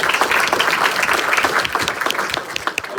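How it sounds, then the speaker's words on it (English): A roomful of people claps for first-time attendees at a gathering, a brief burst of loud, dense applause that thins slightly toward the end. "Let's give a round of applause for everybody who's coming for the first time"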